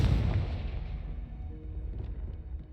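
A Confringo fire spell blasts in Hogwarts Legacy, a loud booming burst at the start that rolls into a rumbling, crackling decay lasting a few seconds.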